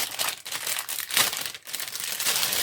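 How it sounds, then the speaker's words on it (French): A small paper-cutting tool for scrapbooking slices through paper with close crinkling and rustling, one brief crunchy cut following another, without speech. "On va juste vérifier ensemble qu'il coupe bien."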